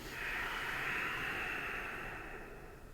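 A single deep breath during a yoga session: a soft, close, hissy airflow that swells and then slowly fades out over a few seconds, faint and alone.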